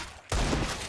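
A sudden burst of Desert Eagle pistol fire in Counter-Strike: Global Offensive, a sharp loud onset that rings out in a broad, sustained blast after a quiet moment.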